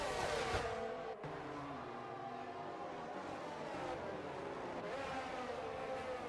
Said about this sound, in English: Fury overtakes his teammate down the main straight with DRS.